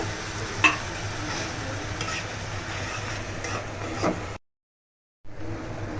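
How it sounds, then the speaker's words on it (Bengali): Tomato puree is sautéed and stirred in a pan, a soft continuous sizzle with scraping strokes of a spoon close by, cutting to silence briefly before the frying resumes. "টমেটোর যে পিউরিটা দিয়েছিলাম ওটা ভালো করে কষিয়ে নিলাম"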